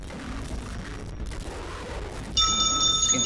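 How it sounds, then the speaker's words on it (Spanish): In the video game Evil, a bell suddenly starts ringing with a bright, sustained metallic tone that cuts in over dark, rumbling ambience and continues steadily. "Cállate, puta campana."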